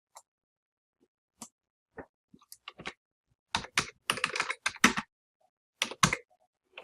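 Typing on a computer keyboard in a quiet room: isolated clicks at first, then a quick cluster of crisp keystrokes, close and clear with silence between bursts.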